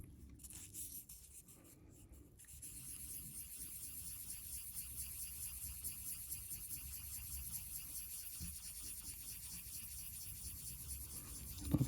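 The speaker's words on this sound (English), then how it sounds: "I'm just going to get a fresher piece of sandpaper out." Steady, continuous rubbing rasp of sandpaper being worked over a Heuer Autavia 2446 watch case, close and fairly quiet, running evenly after a brief quieter start.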